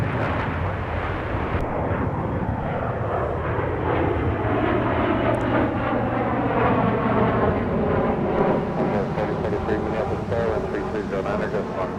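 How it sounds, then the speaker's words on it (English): A Flexjet business jet roars through a loud takeoff at Minneapolis–St. Paul airport, its engine tone rising and sweeping steadily for about twelve seconds, with voices talking over it. "Look at that flex jet. Sporty departure."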